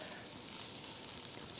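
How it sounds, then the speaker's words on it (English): Steady, dense sizzling of sambal frying in hot oil, a continuous bright hiss with no pauses, close by. "it still has to have a sizzle"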